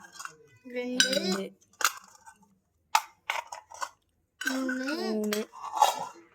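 Steel tumbler set vessels clink and ring against each other in several bright metallic knocks, with lingering resonant tones, close by.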